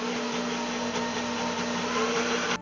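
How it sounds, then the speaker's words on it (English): An electric mixer whisks heavy cream in a bowl, a steady loud whirring drone with a constant motor hum that runs unbroken and close throughout. "I'm going to start with heavy cream and I'm going to whisk that around a bit until it thickens up"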